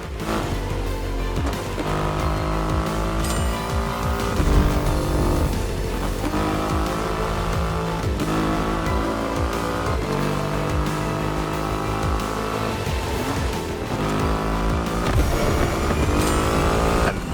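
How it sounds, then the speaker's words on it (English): A Triumph Rocket 3 with its 2.5-litre engine, ridden in The Crew Motorfest, roars loud and steady throughout, its revs rising and falling in repeated surges with no talk over it. "An extreme motorcycle with a huge presence."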